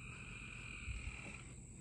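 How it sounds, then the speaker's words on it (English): Frogs croaking outdoors near a Chevrolet Silverado, a low throaty croak pair in the middle over a steady high insect-like drone and background hiss. "frogs, be quiet. I'm trying to film."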